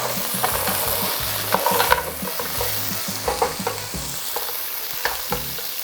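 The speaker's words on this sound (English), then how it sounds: "We are going to add our clams. We're gonna turn this down." Clams and browning garlic sizzle in a hot pan, a steady frying hiss broken by repeated scraping stirs and clinks of a utensil.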